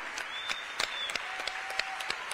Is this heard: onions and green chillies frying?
no